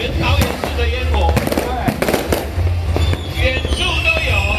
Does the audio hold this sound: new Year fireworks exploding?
yes